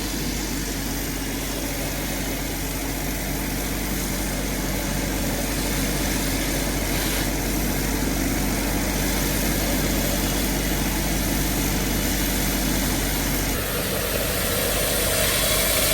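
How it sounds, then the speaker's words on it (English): The 280-horsepower engine of an Aqua Blaster Mark II sprayer runs at a steady idle, a loud continuous rumble with a constant tone throughout, close by and without voices. "Here we go with the Aqua Blaster Mark II. 280 horsepower."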